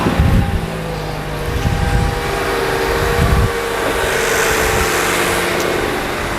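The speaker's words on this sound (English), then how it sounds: "I'm actually going to start the engine, let the engine heat up and dry it out from internally" A car engine starts and settles into a low, steady idle after an engine-bay cleaning, with a rumbling hum and some wind-like noise, heard up close and without speech.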